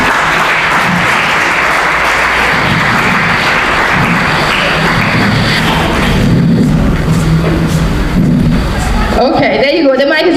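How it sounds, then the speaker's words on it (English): A crowd at a live African Nations Quiz event at Gambia College in Brikama applauds an arriving school team, loud steady clapping mixed with crowd noise and voices, ending with a distorted burst of speech. "Let's give them a round of applause as they are coming."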